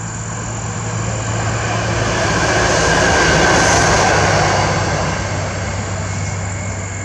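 A loud, steady rumble swells and fades as a train passes, broadband roar with a low hum throughout, no voices.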